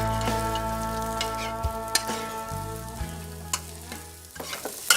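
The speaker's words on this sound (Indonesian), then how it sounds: "lagi praktek bikin nasi goreng spesial" Nasi goreng frying in a pan, with continuous sizzling, scattered stirring clatter, and spatula knocks against the pan, close and steady, with no talk.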